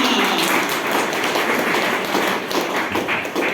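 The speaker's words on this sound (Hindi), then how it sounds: "जोरदार तालियों के बीच में" A large audience claps loudly and continuously at a motivational event, giving a thick wall of steady applause with no break.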